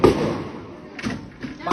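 Gunshots ring out amid street unrest in Bangladesh, a few sharp bangs spaced over a couple of seconds at moderate distance, with agitated voices talking over them.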